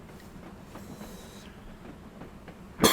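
A freight train in the Railworks simulator runs at a 25 mph limit, giving a low, steady rumble with faint rhythmic clicks, then a sudden loud burst at the very end.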